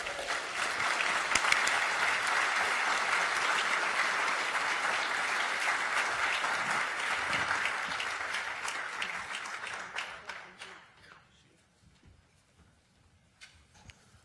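Sustained applause from a conference audience at an economic summit greets former California Governor Gray Davis, loud and steady for about ten seconds before fading to a few scattered claps.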